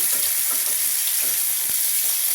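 Ground cumin paste hits hot oil with bay leaves and garam masala in a pan, giving a loud, constant hiss and crackle with faint stirring scrapes underneath.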